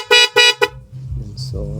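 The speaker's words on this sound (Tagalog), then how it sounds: "Ito try natin siyang pa-horn mga paps" A Yamaha YTX 125 motorcycle's newly installed dual horn blares in three short, loud, close honks, the last one clipped, followed by the motorcycle's low idle and someone speaking.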